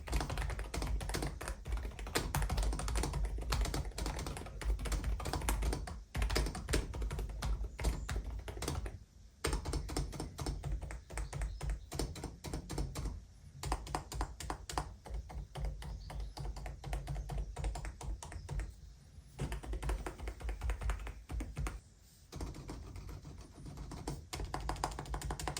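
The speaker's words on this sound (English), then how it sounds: "These are linear switches and they really do dampen the sound." Steady, fast typing on an Epomaker DynaTab 75X mechanical keyboard fitted with Sea Salt silent linear switches, producing muted, soft thocky key presses in continuous bursts with a few brief pauses. It is close and quiet, and nobody talks.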